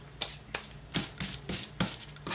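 A glued paper box flap being rubbed down by hand, several quick scraping rubs in an uneven rhythm, close and fairly quiet with no talking.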